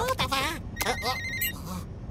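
A high-security telephone in an animated cartoon rings in short bursts of bright electronic trilling, mixed with and partly under cartoon voices talking.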